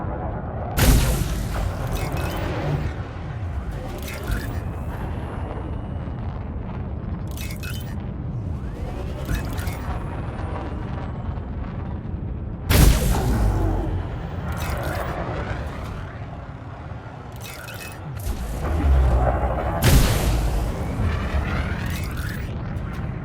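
PA weapon volleys fire in the video game War of Attrition, heard as heavy booming blasts at irregular intervals over a constant rumbling battle backdrop, loud and close.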